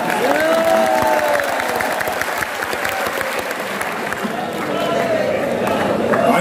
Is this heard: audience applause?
yes